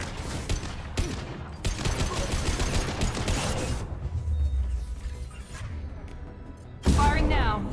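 Dense, near-continuous gunfire from a Mass Effect 2 firefight, loud and close, with rapid shots and impacts that thin out near the end before a brief voice cuts in.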